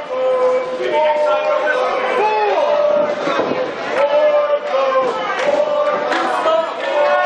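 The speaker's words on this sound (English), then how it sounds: "Some crowd members chanting Wardlow." A wrestling crowd chants Wardlow's name during a match against Damien Priest, a loud sustained roar of voices with rhythmic chanting throughout, dense and close like a packed arena.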